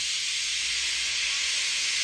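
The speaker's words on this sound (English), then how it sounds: "He just let off steam feebly." A steam engine from a children's railway story lets off a soft, steady hiss of steam, an even wash of noise that holds unchanged for about two seconds with no other sounds.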